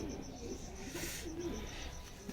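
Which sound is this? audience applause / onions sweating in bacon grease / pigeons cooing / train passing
pigeons cooing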